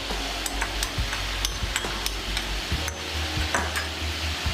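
Garlic ginger paste frying in a karahi for a Peshawari namkeen karahi, giving a steady close sizzle with scattered sharp clicks and scraping clatter of a spoon against the pan, no talk.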